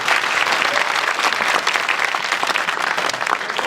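A crowd claps at a ribbon cutting and ground opening ceremony, dense, loud, continuous applause filling the whole few seconds with no talk over it.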